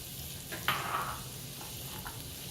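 Chopped vegetables cooking in melted butter in a soup pot, a soft, steady sizzle with a brief clink or stir near the start, faint and continuous.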